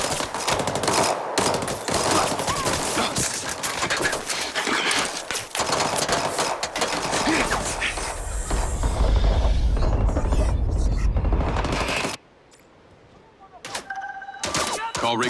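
Rapid bursts of machine-gun fire in the MindsEye game crackle hard and near, dense for roughly twelve seconds with heavy low booms in the middle stretch, then cutting out to quieter scattered sounds.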